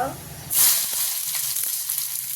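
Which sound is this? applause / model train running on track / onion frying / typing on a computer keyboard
onion frying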